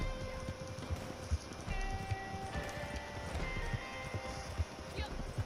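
Horse hooves clip-clop at a steady, moderate pace in Red Dead Redemption 2 Online, with game music and ambience running throughout.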